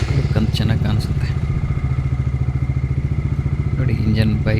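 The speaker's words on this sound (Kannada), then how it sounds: "ಇಂಜನ್ ಬೈಕ್ ಸೌಂಡೇ ಒಂಥರ ಡಿಫ್ರೆಂಟು" A motorcycle engine runs close by with a steady, even pulsing idle throb, joined by light rattling and a few brief knocks, while someone talks over it.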